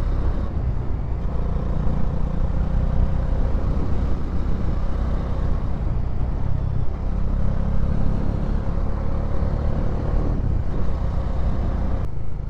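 Bajaj Dominar motorcycle cruising in sixth gear on a dusty Ladakh route, a steady loud engine drone mixed with wind rumble throughout, with no talk audible.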